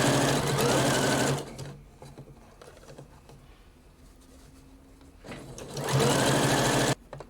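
A sewing machine stitches along a flutter sleeve edge in two loud, rapid buzzing bursts, separated by a quiet pause with faint handling sounds.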